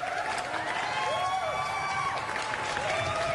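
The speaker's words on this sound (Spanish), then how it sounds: "Tírele el aplauso, señor director." A played applause sound effect on a TV talk show: a crowd claps and cheers continuously, a dense wash of applause with voices rising above it, steady and moderately loud.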